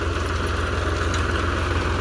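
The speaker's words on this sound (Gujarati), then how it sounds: "હજુ પપ્પા ટ્રેક્ટર ચલાવે" An Eicher tractor engine runs steadily during potato harvesting, a constant low throbbing drone with even vibration and no breaks, close and fairly loud with no talk.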